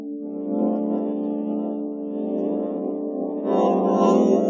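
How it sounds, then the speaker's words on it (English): An AI reconstruction of a song generated from fMRI brain scans plays as a muffled, underwater-sounding melody with smeared tones, swelling slightly louder toward the end, with no talking. "Yes, it sounds muffled and like it's being played underwater, but it's got the melody"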